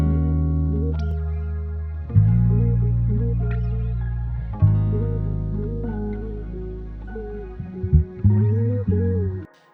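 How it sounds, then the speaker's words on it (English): Synth tone with a lush chorus effect, sustained chords with shifting harmonics and a few sharp attacks near the end, played alone and fairly loud. "Sounds like this with the chorus."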